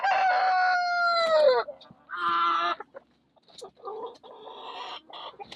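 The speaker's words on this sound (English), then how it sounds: "So we have 4 hens in here, and then there's 2 more hens and a rooster." Farm chickens, hens and a rooster, calling close by: a long drawn-out crow-like cry, then a short harsh squawk and several broken clucking calls with quiet gaps between them.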